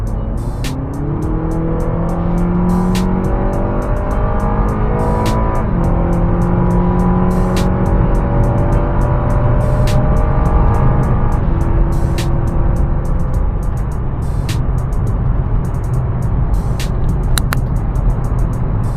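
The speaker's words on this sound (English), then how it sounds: "So right now I'm just going to use it in sport mode by itself. Right now we're cruising about 50. So I'm going to accelerate right now." A car driven in sport mode accelerates hard from a 50 cruise, engine note climbing steadily through rising revs with shifts between gears, loud and continuous from inside the cabin.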